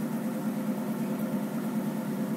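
A 1973 AMC Gremlin X idles with a steady, even engine drone that holds at one level throughout, with no voices over it.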